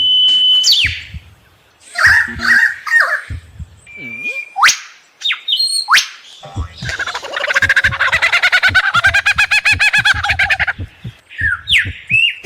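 A lyrebird mimics the songs of other birds in a varied, loud, close sequence of whistles, chirps, swoops and a rapid rattling trill, each phrase separated by short pauses.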